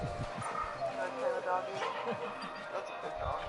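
A large dog in the video game Final Fantasy XVI barks and whimpers in short yips over game music and ambience, with a voice talking throughout.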